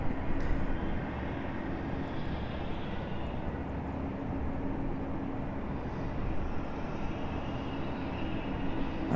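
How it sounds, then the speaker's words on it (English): A Delta Airbus A220 jet rolls past at an airport, heard as a steady, broad engine roar at moderate distance that holds evenly throughout without rising or fading. "Here comes our Delta A220."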